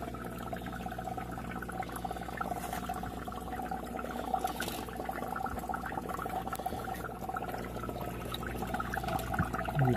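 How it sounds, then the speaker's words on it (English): Water bubbling and gurgling continuously in a reef aquarium display, a busy close-up churn of fizzing and trickling with a low hum underneath, no talking. "You can see got plenty of bubbles going on here."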